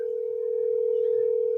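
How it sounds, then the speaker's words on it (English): Steady single-pitched telephone tone after dialing out to a New York cell phone, loud and close, holding evenly for over a second before cutting off abruptly. "I'm hitting send. We're going to call Dingo or someone else out in the world."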